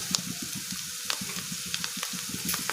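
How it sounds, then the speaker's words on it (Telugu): Curry leaves and chopped onions fry in a pan for spicy cabbage masala rice, giving a steady close crackle and sizzle with repeated light stirring taps throughout. "కరివేపాకు తరుగు వేసుకొని ఫ్రై చేసుకోవాలి ఉల్లిపాయలు కూడా ఫ్రై అయ్యండి"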